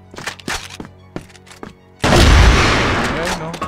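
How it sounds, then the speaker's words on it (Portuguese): A grenade goes off in a first-person shooter match with a sudden loud, deep boom that rumbles and fades over the next second and a half, after a few sharp thumps and clicks. "vocês gastou granada à toa aí"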